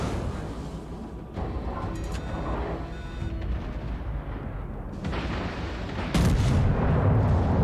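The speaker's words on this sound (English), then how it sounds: "I seem to not be able to hit anything with this battleship." Battleship main guns fire in the naval video game World of Warships, giving heavy booming blasts and rumbling explosions over a continuous loud, dense battle din, with no speech.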